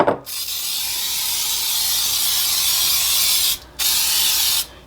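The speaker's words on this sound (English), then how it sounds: "I'm gonna spray my bake sheet." A can of cooking spray hisses continuously onto a baking sheet for several seconds, stops briefly, then sprays again in a short second burst, close and loud.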